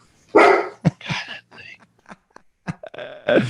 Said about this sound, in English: Shut up, dogs.